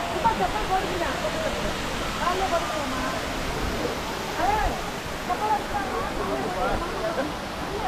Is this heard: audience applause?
no